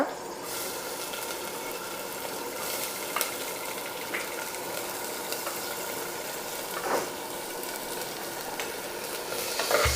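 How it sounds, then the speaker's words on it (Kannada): Spices crackle and sizzle in hot oil while tempering masala rice, a steady close-up frying hiss broken by scattered sharp pops over about ten seconds, with no voices. "ಸೊ ದಟ್ ಎಲ್ಲ ಒಟ್ಟಿಗೆ ಚಟಪಟ ಅನ್ನುತ್ತೆ"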